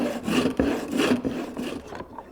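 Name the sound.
hand saw cutting wooden barrel head boards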